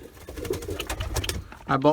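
Soft, low cooing from a white homing pigeon cock close by, a few throaty rolling calls amid faint rustling, with a brief higher chirp near the end.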